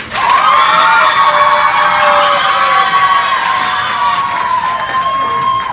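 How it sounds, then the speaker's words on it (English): A youth Pop Warner football crowd cheers loudly and continuously, a mix of shouting and whooping voices that holds steady for several seconds before easing slightly at the end. "that crowd gets more and more enthusiastic"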